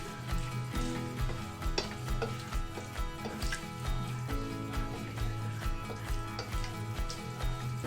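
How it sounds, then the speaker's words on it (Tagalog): Chicken sizzles as it is sautéed in a pan for pansit bihon, a steady close frying hiss broken by repeated scraping and clinking of a utensil stirring the pieces. "Gisa-gisa lang."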